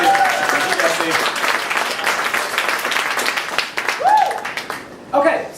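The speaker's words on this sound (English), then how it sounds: "So round of applause for Jesse." An audience claps for the host at an introductory 3D printing talk, a brisk burst of applause with voices mixed in that dies away near the end.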